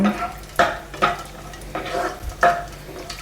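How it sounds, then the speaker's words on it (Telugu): Cashews sizzle as they are fried until brown in a pan, with repeated scraping and clattering strokes from a utensil stirring them against the metal at a steady pace, close up and unaccompanied by speech. "ఇప్పుడు కాజు ఫ్రై చేసుకోండి బ్రౌన్ కలర్ వచ్చేంతవరకు వేయించుకోండి"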